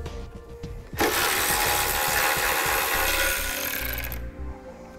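A 2014 Ford Fiesta horn fastener comes off the frame as a loud, close whirring power tool runs for about three seconds and then stops.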